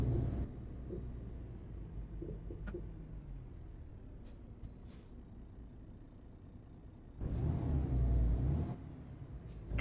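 A truck in Euro Truck Simulator 2 runs with a low engine rumble, a faint hiss and small clicks partway through, then a louder surge of engine noise near the end.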